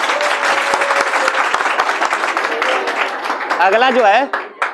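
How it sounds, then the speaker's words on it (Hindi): A classroom group claps steadily for a student for several seconds, close and lively, while voices chatter and a voice rises in pitch near the end. "इस बच्चे के लिए एक बार तो ताली बनता है भाई"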